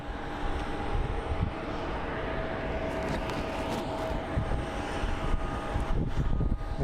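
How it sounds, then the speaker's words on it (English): A Delta Connection Embraer 175 jet airliner at Phoenix Sky Harbor airport gives a steady, broad engine roar that holds fairly loud and even from start to finish, with no talking. "the little Embraer 175"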